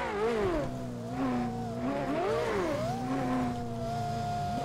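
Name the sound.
Lexus LFA engine revving in GTA 5 race, video game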